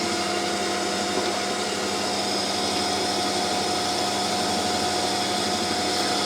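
A small metal lathe runs continuously with a sharp-edged cutting tool, producing a steady motor whine and hum with a faint cutting texture and no pause throughout.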